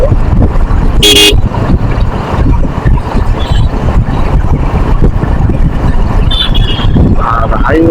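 Cars travel along a highway near Bogura, Bangladesh, on Eid day. A loud, constant roar of traffic and wind is broken by sharp car horn toots, one early and two more near the end.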